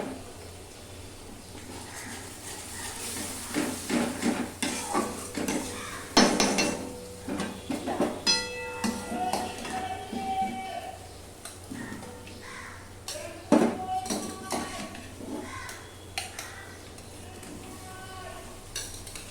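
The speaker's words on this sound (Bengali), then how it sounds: "যে সবজিগুলো আমার সেদ্ধ করে রাখা আছে সেই সবজিগুলো এর মধ্যে দিয়ে দেবো" Boiled vegetables being tipped and stirred into a cooking pan, with repeated clanks and scrapes of a spoon against the metal and a light sizzle, close by, in irregular bursts over about twenty seconds.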